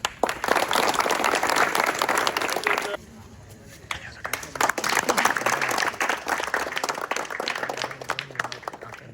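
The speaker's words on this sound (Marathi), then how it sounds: "त्यांच्यासाठी एकदा टाळ्या" Enthusiastic applause from a crowd at a human-pyramid practice opening, sustained clapping that dips briefly in the middle and then picks up again.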